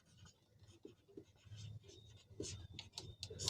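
Chalk or marker writing on a board during a Class 10 maths lesson on real numbers, faint scratchy strokes and taps in an irregular rhythm, quiet and close, with no clear speech.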